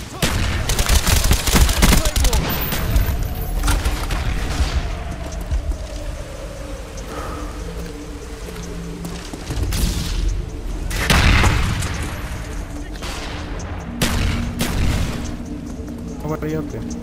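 Call of Duty Black Ops Search and Destroy match on a Villa map, with bursts of gunfire and heavy booming explosions from grenades, loud and layered, while players talk over the action throughout.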